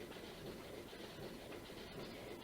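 A train in the Dragon Quest X video game rides steadily on rails, a continuous low rumble with faint rhythmic rail noise, close and even throughout without talk.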